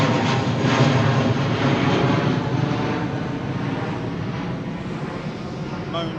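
A jet aircraft departing Heathrow runway 09R passes overhead, its engine a loud, broad sustained roar that slowly fades, while people talk beneath it.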